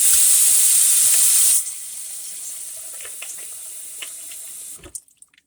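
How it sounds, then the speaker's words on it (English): Cold water pouring into a bucket of ice stones, a loud steady splashing rush for about a second and a half, then softer trickling with small clinks before it stops. "To make these cold stones, you just add ice, and then you'll add cold water."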